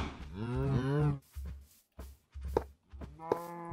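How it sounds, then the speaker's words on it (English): A Minecraft cow moos several times in quick succession, clear and close, each call a short tonal lowing with gaps of silence between. "Okay, there's a cow."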